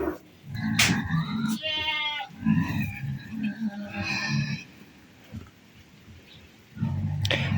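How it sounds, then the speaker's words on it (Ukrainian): Pigs give low, rough grunts in several bursts while waiting for breakfast, with a higher squealing call in between amid quiet farmyard background in the morning. "Свинки також чекають сніданку, хрокають."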